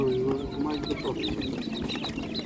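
Chickens cluck and cheep at an outdoor animal market where young birds are sold, a busy close chorus of short calls heard under people talking.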